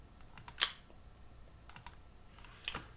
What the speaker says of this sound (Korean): 여기서 컨트롤 S를 누르면 돼요